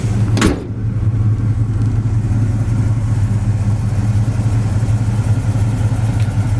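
Big-block 454 V8 in a 1972 Chevy Chevelle SS idles smoothly with a loud, steady low rumble throughout, after a brief sharp click at the start.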